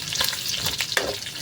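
Onion, ginger, garlic, chili and leaves sizzle steadily in a hot pan while being stirred for chicken fat and liver adobo, with a bright continuous fry and a few scraping stir sounds.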